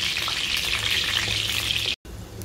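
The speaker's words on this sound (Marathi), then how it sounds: "ते चांगले असे गोल्डनिश ब्राऊन कलरचे होईपर्यंत चांगले तळून घ्यायचे आहेत." Gulab jamun dough balls deep frying in hot oil: a steady close sizzle with crackling bubbles throughout, broken by a brief cut of silence near the end.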